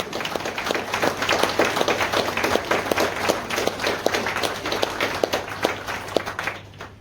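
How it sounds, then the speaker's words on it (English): A large crowd at the Women of Wonder Awards 2020 ceremony gives a sustained round of applause, dense overlapping claps with sharp individual hits, loud and continuous before tapering off at the very end. "give your lady loves a huge round of applause"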